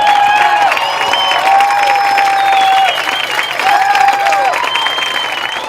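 A stadium crowd at an OPSU Aggies versus McMurray War Eagles college football game applauds the Panhandle State rodeo team, with loud, sustained clapping and scattered whistles filling the air for several seconds.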